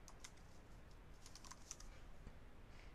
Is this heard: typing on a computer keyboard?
yes